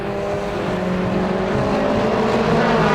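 A 750 Motor Club race car, car 79, powering through the Fogarty Esses at Donington Park, a loud sustained engine roar with rising pitch, close by, filling the whole stretch without speech.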